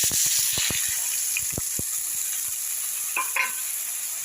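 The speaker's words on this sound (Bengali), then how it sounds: "এখন আমি এই ভাজা ফোড়নটার মধ্যে এই মশলাগুলো দিয়ে দিই" Spices hit a hot fried tempering in a pan and sizzle steadily, a bright continuous hiss with a few clinks and stirring scrapes near the start.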